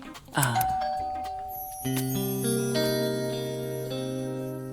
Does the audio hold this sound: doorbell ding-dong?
yes